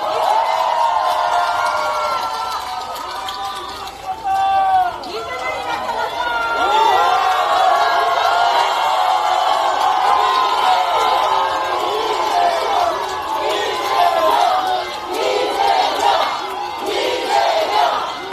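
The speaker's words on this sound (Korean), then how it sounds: "박수로 맞아주십시오" A large crowd at a political rally in Daegu roars with cheers, shouts and applause, loud and sustained throughout, with voices chanting and calling out in a dense, continuous wall of sound.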